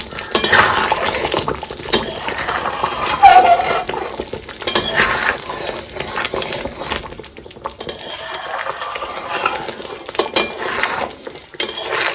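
Cauliflower curry is stirred in a pan with a spoon, giving steady clinks and scrapes of metal on cookware close by, with a soft sizzle underneath and no talking.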